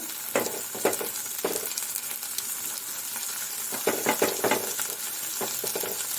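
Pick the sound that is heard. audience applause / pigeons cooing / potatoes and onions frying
potatoes and onions frying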